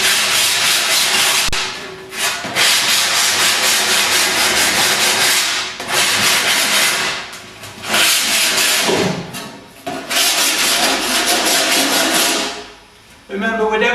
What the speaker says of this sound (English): need a file or an old sanding disc that I've got here